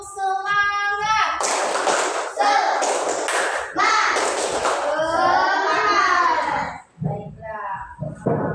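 Schoolchildren repeat a rhythmic clapping chant in class, sharp hand claps and taps locked to a shouted group cadence, loud and near, with an adult voice leading at the start and children's voices throughout.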